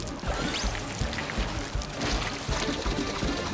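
Water sprays and pours in a steady rushing stream in Super Mario Odyssey's Seaside Kingdom, continuous and fairly close with splashy fluctuations throughout.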